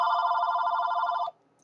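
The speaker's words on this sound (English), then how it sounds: "Sorry, that's my phone." A phone ringing nearby, a loud steady electronic ring tone holding for over a second and then cutting off abruptly into near silence.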